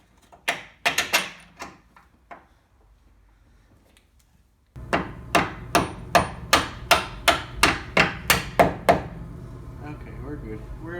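Sharp metal hammer strikes drive a bolt through the front suspension of a Jeep JK during a steering and suspension rebuild: a few scattered hits, a pause, then a fast, evenly spaced run of about a dozen loud blows over a low background hum.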